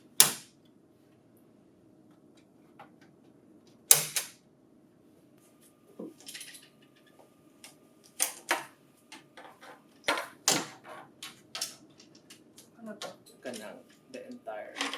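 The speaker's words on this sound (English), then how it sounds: "Remove the red plastic strips." Red plastic strips are pulled from a printer color imaging kit, giving sharp plastic snaps, creaks and clicks that come sporadically and then more often near the end, in a quiet room.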